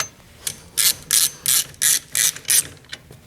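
Ratchet clicking in quick bursts while screws are snugged on the dogbone mount of a Mk8 GTI, about seven evenly spaced loud ratcheting strokes close by with no talk.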